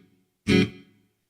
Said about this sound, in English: reverb is all the way up.